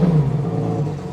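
A Lamborghini Aventador engine roars loudly and close, a steady deep rumbling rev held without any voices over it.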